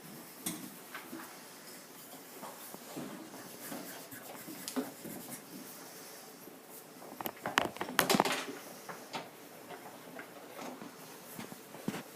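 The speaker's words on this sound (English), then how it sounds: "Kyle, you should be writing something better." Pencils or pens scratching on paper as students write at their desks in a classroom during a lesson on the 13 Colonies, a soft continuous patter with a few louder taps and shuffles near the middle.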